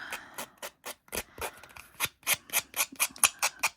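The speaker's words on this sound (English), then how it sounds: "I very roughly just cut around these with the scissors" Scissors snip repeatedly through paper, roughly cutting around paper shapes, a fast, fairly regular series of crisp cuts close by, picking up pace toward the end.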